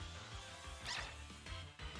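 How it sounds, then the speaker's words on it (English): A Yamper, the small dog Pokémon in Pokémon Sword, gives its synthesized cry: a short run of yappy, bark-like yips and whimpers over steady game background sound. "let's try to get this cute little dog over here"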